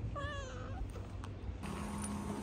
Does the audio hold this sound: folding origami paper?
no